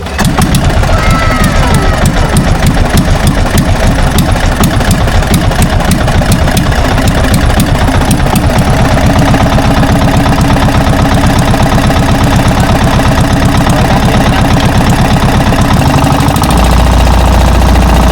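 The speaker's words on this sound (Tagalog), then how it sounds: "Ito try na po ni Junjun na paandarin yung kanyang makina" A loud engine runs steadily at idle with a rough, rattling mechanical chug throughout, close up, during a village fiesta eve repair, its tone shifting lower near the end.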